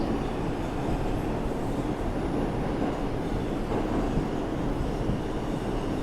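An R142 subway train on the 5 line heard from inside the car: a loud, steady low rumble and roar of wheels on track, unbroken for the whole stretch.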